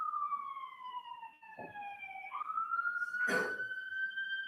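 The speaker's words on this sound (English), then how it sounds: "Hold on, wait for the ambulance and then speak up." An ambulance siren outside a courtroom wails in long, slowly gliding tones with a brief dip and rise, heard faintly from a distance. A short thump breaks in partway through.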